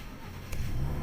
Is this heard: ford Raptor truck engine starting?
yes